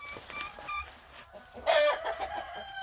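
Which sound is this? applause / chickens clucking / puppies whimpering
chickens clucking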